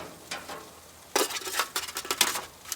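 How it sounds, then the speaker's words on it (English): Smoked pork pieces go into a disposable aluminum pan for braising: a quiet start, then a burst of close crinkling, scraping and soft sizzling patter as the meat lands and shifts against the foil. "So I'm just going to transfer this pork to this disposable aluminum pan and start braising."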